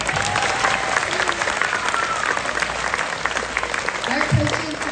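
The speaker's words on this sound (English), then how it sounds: "I would really appreciate if everyone could please give a huge round of applause to our coaches" An audience at a gymnastics summer showcase applauds the coaches with a sustained, dense round of clapping and some crowd noise throughout, with a few voices mixed in.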